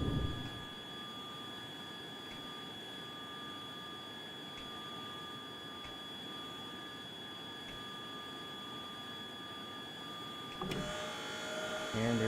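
A Harrier jet in the video game Tiny Combat Arena spools up for a short takeoff, a steady whining engine tone held for several seconds, then a louder rush of thrust near the end.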